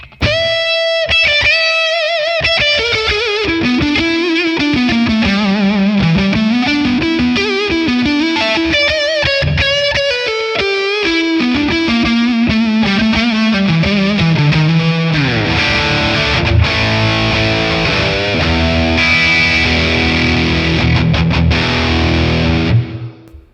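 An electric guitar, a Les Paul on the neck pickup, plays through a high-gain amp model with reverb: a distorted, sustained melodic lead line, then denser chords, loud and close with no talk.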